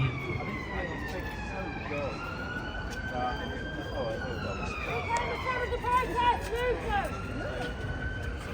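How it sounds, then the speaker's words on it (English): An ambulance siren wails in a gliding, rising-and-falling tone as it passes along a street at a Leeds rally, held steadily over crowd noise and scattered voices, loud throughout. "Got an ambulance coming through again."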